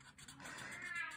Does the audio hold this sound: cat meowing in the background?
yes